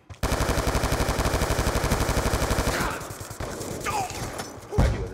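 Rapid automatic gunfire from Call of Duty Black Ops 2, a loud, steady burst of evenly spaced shots for several seconds, then scattered impacts and a final heavy thud.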